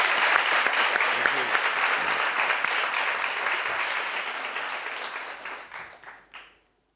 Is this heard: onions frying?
no